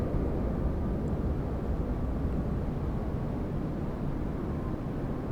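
An aircraft, likely on arrival near Washington DC, heard far off as a steady broadband roar that holds at an even level throughout, with no voices and no other distinct sounds.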